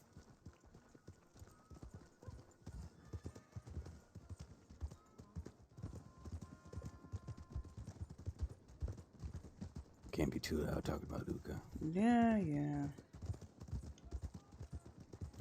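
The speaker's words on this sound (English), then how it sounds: "Well, I'm gonna ride my horse." Horse hooves clip-clop in a steady, quick rhythm while riding in a video game. Low voices talk over the hoofbeats, and a loud neigh breaks in near the end.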